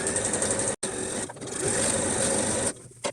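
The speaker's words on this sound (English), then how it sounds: "So I sew it on the right side and I stitch on the edge, almost not even a millimeter of the edge." A sewing machine runs steadily while stitching shower curtain fabric along the edge, with a quick stop near the start and a brief pause near the end, close and loud with no talk over it.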